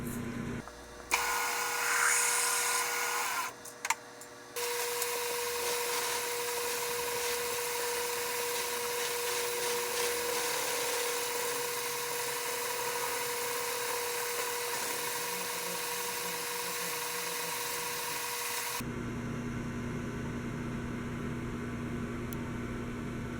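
An end mill cuts clearance into a part for a 1957 Bolens tractor, producing a steady high-pitched machining whine that holds for most of the stretch after a few short starts and stops, alone without talk.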